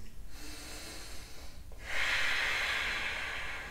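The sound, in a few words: deep breathing through the nose during yoga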